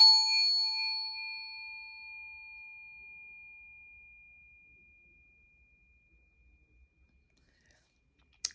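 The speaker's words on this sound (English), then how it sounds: "you take it and it's like a ringing of the bell" A handheld bowl is struck once, giving a clear bell-like ring with several pure overtones that decay slowly into silence over several seconds, followed by a faint click at the end.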